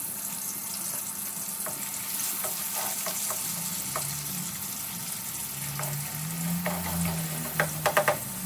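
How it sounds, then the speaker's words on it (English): Chopped onion fries in hot oil for a Pakistani-style potato chicken karahi, a steady close sizzle with occasional light utensil taps and a few quick clicks near the end. "we have put the onion inside the oil"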